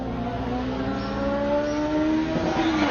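Toyota Supra race car lapping Buttonwillow Raceway in a time-attack session, engine droning steadily with a rising harmonic tone as it accelerates, loud and continuous with no speech.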